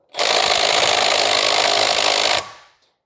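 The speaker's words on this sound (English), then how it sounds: "I'm going to let the ratchet do the work for a few seconds" A Milwaukee M12 2564-20 right angle impact ratchet runs in reverse to remove bolts, giving one loud, steady buzzing burst of about two seconds that cuts off sharply, with no voices.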